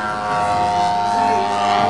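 A 3D aerobatic competition model airplane rolls overhead, its engine giving a loud, steady, whining drone with slight pitch wavering throughout the short stretch.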